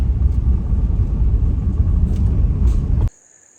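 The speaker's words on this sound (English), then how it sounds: "So just driving back out now." A pickup truck rolls along a Kentucky forest service road with a steady, loud low engine rumble and road noise, no one talking, cutting off abruptly near the end.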